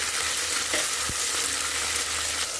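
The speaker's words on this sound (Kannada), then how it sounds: "ಇದಕ್ಕೀಗ ಅವರೆಬೇಳೆ ಸೇರಿಸ್ತಾ ಇದ್ದೀನಿ. ಇದನ್ನು ಸ್ವಲ್ಪ ಫ್ರೈ ಮಾಡ್ಕೊಳ್ಳೋಣ." Field beans fry with golden brown onions in a hot pan, giving a continuous close sizzle with a light stirring scrape.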